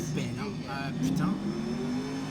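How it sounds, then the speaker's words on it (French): An in-game car engine in the L.A. Noire video game hums and rises in a rev, steady and fairly close throughout, with a voice talking over it. "Elle a un très beau moteur. Très joli son."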